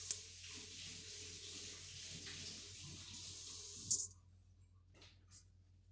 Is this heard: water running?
yes